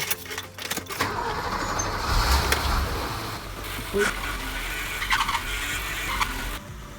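A BMW E30's engine cranks and catches, then settles into a rough idle with a squealing power steering whine during a fluid flush, heard up close over background noise and some voices.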